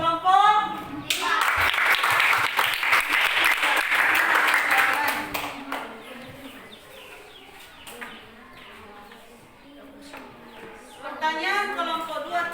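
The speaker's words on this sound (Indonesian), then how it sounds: "Tepuk tangan untuk kelompok 5" Applause from a group of students in an Indonesian classroom, clapping briskly and steadily for about four seconds. It then tapers off, and voices chatter and talk over the quieter stretch that follows.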